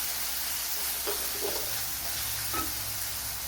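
Coriander powder stirred into a sizzling tomato curry for a papaya dish, giving a steady quiet frying hiss with a few faint scrapes of the spoon against the pan.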